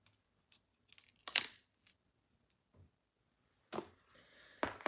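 Protective film peeled off a phone screen protector, heard as a few short, crisp tearing and crinkling bursts with quiet gaps between them, close and fairly soft.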